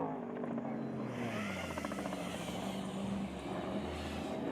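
Ricky Johnson's Mark Post race truck running in the NORRA Baja desert race, a steady engine drone with a rising and falling tone, held close and fairly loud throughout with no talk.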